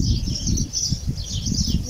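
Birds chirp and twitter steadily along a hiking trail at Wadi Namar, a continuous bright chorus over low rumbling outdoor background noise, with no talking.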